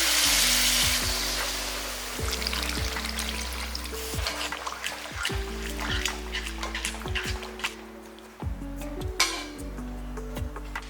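Loud sizzling and crackling as water is poured into egg gravy in a pan, liquid splashing in and a scraping stir now and then, steady throughout.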